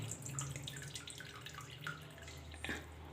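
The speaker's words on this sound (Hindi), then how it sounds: "5-7 मिनट पानी में रखने के बाद ऐसे निचोड़ के" Water drips and trickles softly as soaked urad dal bhalla fritters are squeezed out by hand, faint and close with no talk.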